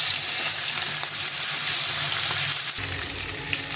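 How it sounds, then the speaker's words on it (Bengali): Pieces of katla fish fry in hot oil with a steady, loud hiss of close sizzling and faint bubbling, no voices over it. "মাছগুলো এক পাশে ভাজা হয়ে গেছে, এগুলোকে এক উল্টে পাল্টে ভেজে নিতে হবে।"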